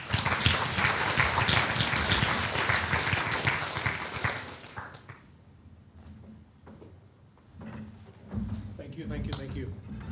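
A live audience applauds to welcome a speaker, with loud sustained clapping for about four seconds before it fades into quieter room sounds and a voice.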